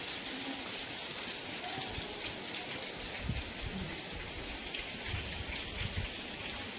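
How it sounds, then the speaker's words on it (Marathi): Monsoon rain falls steadily outdoors as a dense, even hiss with faint scattered patters. It is fairly soft and continuous throughout, with no voices. "बघा इकडं मागं पाऊस चालू आहे म्हणून"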